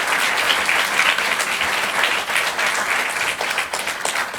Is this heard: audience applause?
yes